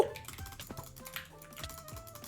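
Typing on a new custom computer keyboard, with a quick run of crisp, close key clicks that fade slightly toward the end.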